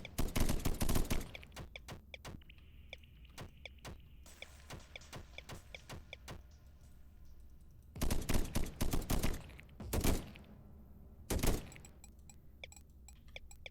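Automated turrets firing in the swarm survival RTS game Deep Among the Swarm, rapid bursts of gunfire clustered at the start and in several loud volleys later, with quieter crackling shots between them.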